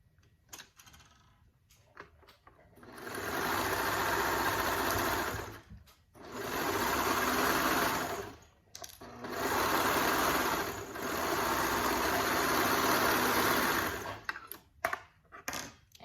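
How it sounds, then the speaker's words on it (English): A sewing machine stitches the side seams of a raglan top in four long steady runs, its rapid mechanical whirr close and loud, separated by short pauses with small handling clicks. "Let's go ahead and sew those sides with those notches."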